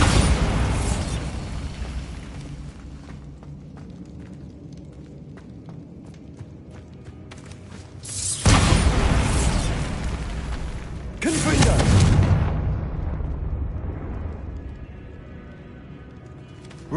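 Bombarda spell explosions in Hogwarts Legacy, two loud booming blasts a few seconds apart with crumbling debris rumbling after each, following a quieter stretch of ambient game sound.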